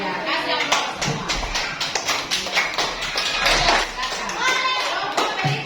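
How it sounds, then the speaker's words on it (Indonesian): A class of pupils applauding in a classroom during a maths group lesson, with dense irregular clapping throughout and children's voices mixed in. "Ya, kasih aplaus semua."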